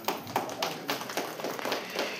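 An audience clapping at a gathering in a district revenue magistrate's office: a short run of quick, even hand claps that sound fairly close, with no talk.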